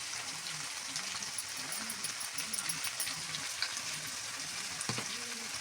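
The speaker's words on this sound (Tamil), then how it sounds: "பெருங்காயம் சேர்த்துட்டு நல்லா வதக்கணும்" Chopped onions frying with rock salt and asafoetida in a pan give a steady close sizzle, with faint stirring scrapes through it and no one talking.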